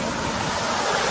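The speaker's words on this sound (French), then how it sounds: "C'est un petit turbine. Et du coup, quand je le plonge dans l'eau" A steady, loud rush of water with a continuous churning hiss from a small hydrogenerator turbine spinning underwater while a sailing boat moves along.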